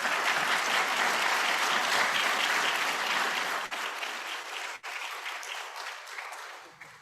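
A crowd at an Advancing Africa event with Bill Gates breaks into sustained applause, a thick wash of clapping that holds strong for several seconds, then thins out and fades near the close.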